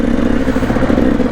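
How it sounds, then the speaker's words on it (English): A dirt bike engine, a Yamaha YZ450FX or KTM 300XC on a mountain trail in Utah, drones steadily at a constant mid-range hum, loud and close with a slight rough flutter. "went on a nice trail ride with this bike and the new KTM300 that I bought"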